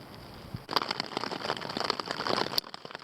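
Rain patters steadily on a mountain camp in the Altai, a dense crackle of drops striking surfaces that starts abruptly and stops just as suddenly near the end.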